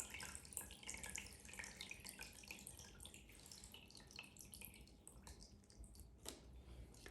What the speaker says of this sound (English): I'm going to take my water that I just filtered and pour it through my water filter again.